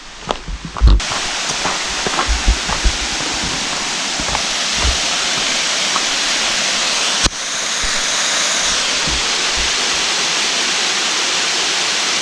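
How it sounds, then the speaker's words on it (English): Cascade Falls in Washington, a steady roaring rush of falling water heard from the upper viewpoint, with a few footsteps and handling bumps at the start. "So this is the Cascade Falls upper view area."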